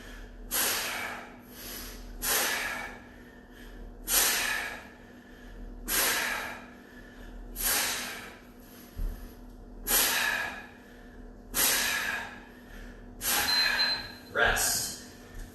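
Heavy exhaling during push-up exercise in a workout, a series of about nine forceful, hissing breaths out at a steady rhythm of roughly one every two seconds, close to the microphone, with brief pauses between.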